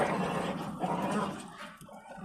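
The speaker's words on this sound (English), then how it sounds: "My dog's fighting." A dog fights, giving a sustained mix of growls and whimpering yelps, fairly close and continuous, with no clear talk over it.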